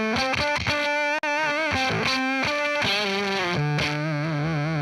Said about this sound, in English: I'm using an octave fuzz pedal I've never used before